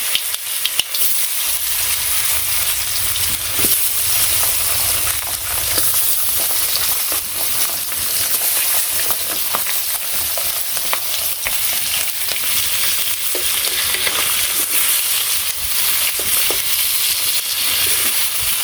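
Desi gajar (snakehead) fish sizzles and fries steadily in hot oil in a pan, a loud continuous crackle with occasional stirring scrapes, no voices.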